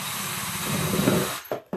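A power drill whirs steadily up close, its pitch shifting as it bites in, then cuts off abruptly with two short bursts after.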